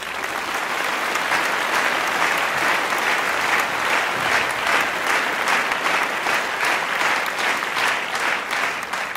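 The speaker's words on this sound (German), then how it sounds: "Und den Applaus." Theatre audience applauding, a dense, sustained wash of many hands clapping evenly for several seconds without letting up.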